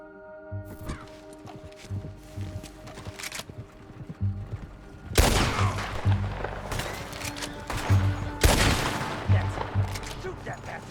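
Gunfire in a Red Dead Redemption 2 shootout, with sharp broadband shots scattered across the clip and loud bursts near 5 and 8.5 seconds over a tonal game music bed, plus horse sounds and voices in the mix.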